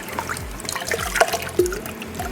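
Water pours and trickles over an OASE BioMaster filter sponge during a quick rinse, close, with gurgling splashes and dribbles in uneven bursts.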